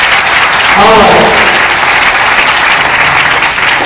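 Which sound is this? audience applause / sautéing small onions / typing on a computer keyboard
audience applause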